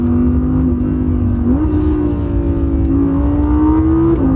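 An Audi R8 V10 Plus with a 7-speed twin-clutch automatic gearbox accelerates hard, its engine note climbing steadily, then dropping sharply on a quick upshift before rising again. The engine stays loud and close throughout, and no one speaks.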